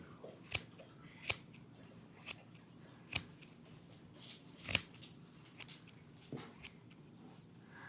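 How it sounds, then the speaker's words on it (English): Scissors snipping through tufted rug yarn on a small mug rug, about eight crisp, close cuts at irregular intervals over a quiet background. "I just have some big chunks here that I'm gonna cut."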